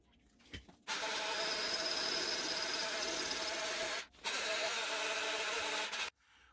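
Power drill fitted with a new 3.5 mm bit whirs loudly and steadily in two long bursts, a short pause between them, on a Hayabusa build.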